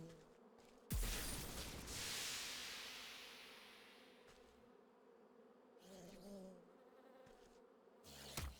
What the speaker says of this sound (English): Stay away from me, you bees.